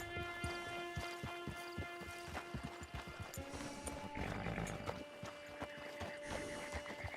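Rhythmic clip-clop of horse hooves in the video game Red Dead Redemption 2, steady trotting beats under a game soundscape with tonal music, a louder rumbling swell midway.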